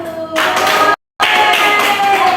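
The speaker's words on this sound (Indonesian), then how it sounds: "beri tepuk tangan untuk kelompok 1" Fourth-grade classmates at a school applaud group 1 with a loud, close burst of hand clapping that cuts off for a moment and then resumes.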